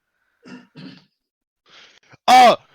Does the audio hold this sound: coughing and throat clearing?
yes